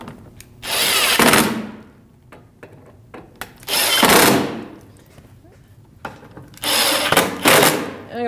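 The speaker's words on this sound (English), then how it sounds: "I'll take my 10 millimeter socket and I'm going to snug these all up." A power driver with a 10mm socket runs up bumper cover screws on a 2010-2024 Toyota 4Runner, three loud whirring bursts of about a second each, separated by quieter gaps with small clicks and handling sounds.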